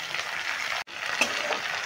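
Chopped tomato frying together with onions in a pan for a cauliflower roast, giving a steady close hiss of sizzling oil, briefly cut off once and then resuming with a faint stir.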